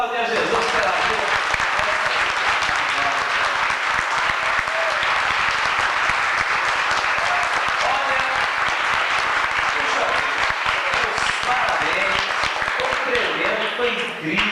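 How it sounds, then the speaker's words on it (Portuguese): A church congregation at a country-themed evening service claps steadily and loudly, a continuous dense wash of applause with faint voices mingled in, lasting the whole stretch without letup. "Vamos aplaudir a Jesus pela vida"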